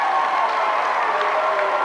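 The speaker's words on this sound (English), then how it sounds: "That brings the crowd to their feet as we've let the crowd back in it." At a high school basketball game between Plymouth and Warsaw, a gym crowd cheers and applauds in a steady, dense roar of clapping and voices, with a commentator talking faintly underneath.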